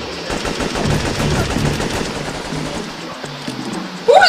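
Rapid automatic gunfire from the video game Syphon Filter 3 rattles loudly in dense bursts, then thins out, with a short sharp sound at the end.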